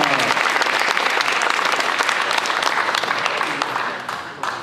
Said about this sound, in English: One more big round of applause for Jackson Hurst for University of Tennessee, Chattanooga.